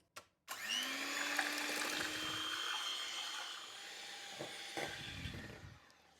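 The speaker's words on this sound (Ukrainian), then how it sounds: "Міксер. Головне, щоб він був у вас потужний, і збиваємо 3-4 хвилинки." A powerful electric hand mixer whips cream in a bowl, keeping up a steady high motor whine for about six seconds. Its pitch shifts slightly as the beaters work, and a few soft knocks can be heard near the end.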